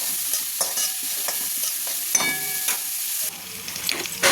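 Capsicum pieces frying in a pan for pasta, stirred with a spatula: close, bright sizzling hiss with repeated scraping and tapping strokes, the sizzle dropping slightly toward the end.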